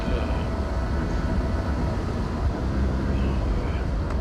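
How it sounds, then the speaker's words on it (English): A deep, steady truck engine roar fills the whole stretch, loud and continuous with a rumbling low end, while driving through Gifford Pinchot National Forest. "it makes the truck sound like a NASCAR engine roaring through there"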